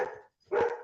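A puppy gives two short, sharp barks close by, separated by a brief pause, with nothing else heard around them.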